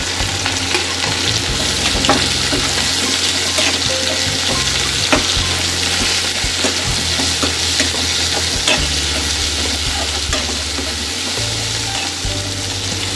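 Continuous loud sizzling of onions, green chilies, crushed ginger and garlic frying in a hot pan, with occasional stirring scrapes and no voices.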